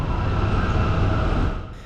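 A Skoda-built BDZ Class 44 electric locomotive from the late 1970s being switched out by train crews at a station on a Turkey–Bulgaria sleeper route; a loud, steady rail rumble that eases off toward the end.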